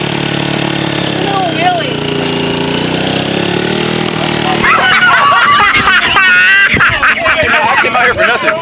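A 2025 Ducati Panigale V4 with a full titanium exhaust gives a sustained loud, rough, raspy engine note, then sharp, choppy throttle blips and revs. People talk and laugh over it.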